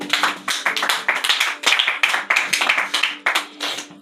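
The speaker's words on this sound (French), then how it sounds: "On peut acclamer pour la parole de Dieu." A church congregation claps and applauds in a sustained burst of many hands, with rhythmic waves of clapping rising and falling and faint voices mixed in underneath.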